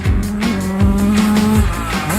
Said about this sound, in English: He's out there doing a hot lap right now on his bike